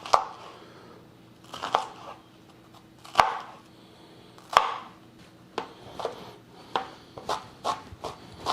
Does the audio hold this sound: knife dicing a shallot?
yes